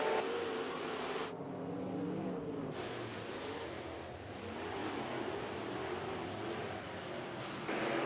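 Modified race cars at Eagle Raceway, a Nebraska dirt track with a field of nineteen cars: a distant, sustained engine roar that swells and fades as the pack circles, heard alone without talk.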